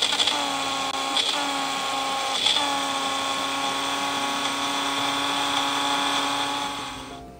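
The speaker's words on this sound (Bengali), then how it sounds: "এবার এই মিক্সিতে আমি এটা পেস্ট করব।" A kitchen mixer grinder whirs steadily as it grinds ginger and garlic into a paste, a loud high-pitched motor drone that shifts pitch slightly and winds down at the end.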